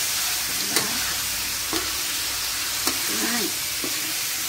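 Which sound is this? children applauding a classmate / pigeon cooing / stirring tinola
stirring tinola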